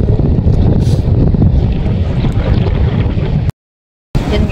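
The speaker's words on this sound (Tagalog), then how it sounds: "Napakalakas ng hangin" Loud, gusty wind buffets the microphone with a heavy low roar, broken by one brief dropout near the end, with no talking.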